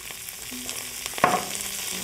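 Broccoli rabe sizzles in olive oil in a pan, a steady close crackle and hiss with a brief clink near the middle and no voices.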